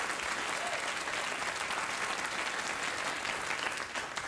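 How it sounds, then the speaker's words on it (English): A studio audience applauds steadily throughout at a late-night talk show, a dense, even patter of many hands with no break. "You people applauded."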